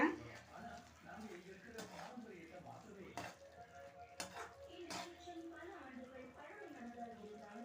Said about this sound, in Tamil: இந்த மசாலா வந்து எல்லா சிக்கன்லேயும் வந்து கலந்துற மாதிரி நல்லா கலந்து விட்டுருங்க